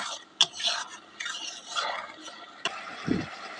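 Spice paste with cashew and poppy seed paste being stirred and fried in a pan, giving soft intermittent sizzling and scraping, a few sharp clicks of the spoon against the vessel and a low thud near the end.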